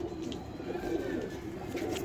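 Pigeons coo softly and continuously in a breeder loft, low rolling calls close by with no talking.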